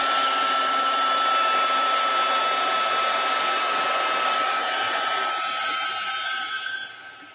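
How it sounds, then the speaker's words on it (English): A hair dryer blows steadily over an altered mixed-media wood slice, a loud continuous whirring hum that holds evenly for several seconds before tapering off near the end. "I think I'm going to dry it first."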